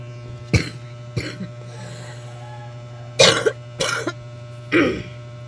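A person with an itchy throat coughs several times in uneven bursts, some sharp and some heavier, over a steady low hum in a quiet room.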